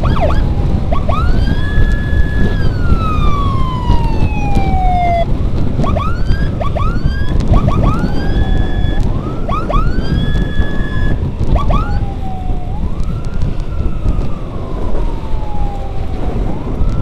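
Several ambulance and escort sirens wail loudly and continuously, overlapping and sweeping up and down in pitch, with traffic rumble underneath.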